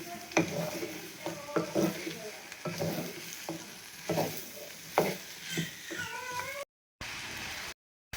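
Drumstick, shallots and potato sauté in hot oil, sizzling close up while a spoon scrapes and stirs in repeated strokes, and a cat meows several times over the frying.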